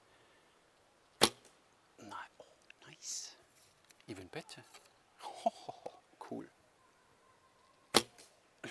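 Arrows loosed from a bow with a sliding thumb release give two sharp, loud snapping shots several seconds apart, with quiet talk and whispering in between.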